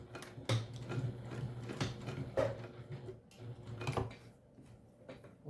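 A sewing machine stitches a small backpack, running in a quiet steady mechanical hum with rhythmic ticking and clicking of the needle mechanism, fairly faint and close, with no talking.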